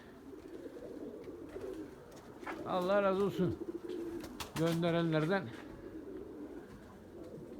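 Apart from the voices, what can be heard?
white pigeons cooing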